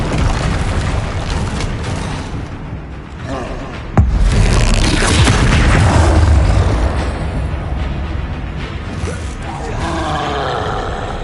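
An Incendio fire spell goes off in a Hogwarts video game with a sudden loud boom and roaring whoosh, followed by a sustained rumbling burst that gradually fades.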